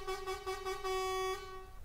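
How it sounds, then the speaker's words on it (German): A modded Scania truck horn in Euro Truck Simulator 2 blares in one sustained, steady blast of nearly two seconds, loud and close, with a rich layered tone and no talking. "Die Hupe ist übrigens nicht original."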